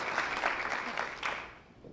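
An audience at a Rotary Woman of the Year event in Jackson, Tennessee applauds to welcome Judy Renshaw to the podium, brisk clapping that fades out within two seconds.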